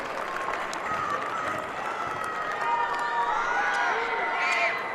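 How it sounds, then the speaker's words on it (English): A basketball crowd at a Class C boys semifinal stands and applauds, a sustained wash of clapping and cheering from the stands with scattered voices mixed in. "their crowd stood and applauded the effort of Bryce Connor out there on the floor"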